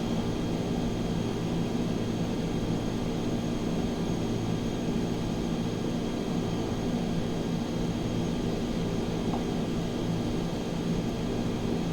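EPIC E1000 single-engine turboprop in the X-Plane 11 flight simulator, spooling up for takeoff with a steady, loud droning engine roar and constant tonal hum that holds without a break throughout.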